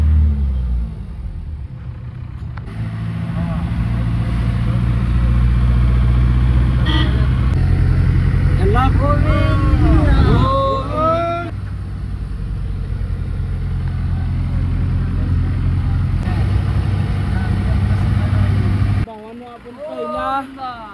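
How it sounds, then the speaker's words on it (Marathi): Sumo and Commander jeeps travel a winding mountain ghat road near Tirupati, heard as a steady, loud low engine rumble and road noise from inside the vehicle, with voices faintly in the background. "इकडं सुमो आणि कमांडर गाड्या तेवढ्या चालतात लोकलला घाटातनी"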